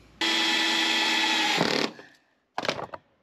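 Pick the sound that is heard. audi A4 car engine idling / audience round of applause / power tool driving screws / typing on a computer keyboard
power tool driving screws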